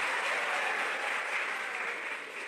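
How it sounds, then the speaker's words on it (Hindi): An audience applauds in welcome at a ceremony laying the foundation of an auditorium and jubilee gate, a steady, dense wash of clapping that holds for the whole stretch and eases slightly at the end. "बहुत एक जोरदार तालियों के साथ आपका स्वागत।"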